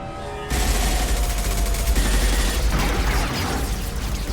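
Sustained automatic gunfire from Mass Effect 2 bursts in abruptly and keeps going as a loud, continuous rattle of close shots with a heavy low rumble beneath, without any voices.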